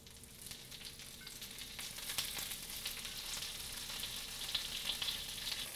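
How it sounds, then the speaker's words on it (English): Spinach leaves sautéing over medium heat in a pan, a soft, continuous sizzle and crackle with faint tossing and stirring noises and no talk. "we're going to wilt our spinach leaves in this real quick"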